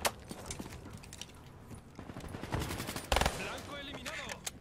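An enemy fires a shotgun in the shooter game Hijacked; bursts of gunfire crack at moderate distance, loudest near the end, amid game noise and people talking.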